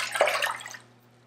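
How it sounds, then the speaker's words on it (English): Vegetable broth, four cups of it, poured into a soup pot: a brief splashing pour that swells quickly and fades out within about a second, with no talking. "So we have 4 cups of a SOS-free vegetable broth that I have here. We're just gonna pour it inside"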